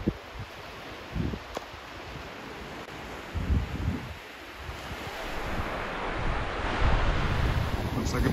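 Surf rolling in on Crosby Beach near Blundellsands, with steady wind buffeting the microphone and low rumbling gusts building toward the end, a continuous outdoor wash with no talking.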